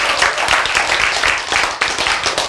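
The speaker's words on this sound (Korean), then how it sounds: "박수" A crowd at a lecture on cancer treatment claps in a dense, steady wash of applause, loud and close, with no talk over it.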